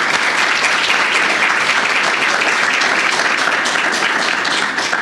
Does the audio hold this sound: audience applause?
yes